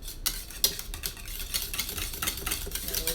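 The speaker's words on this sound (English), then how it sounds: "I'm going to just whisk this just a little bit to get it all incorporated in there." Blue cheese dressing being whisked in a bowl, with quick, irregular scraping and tapping strokes against the bowl, close and fairly quiet, and one sharper clink near the start.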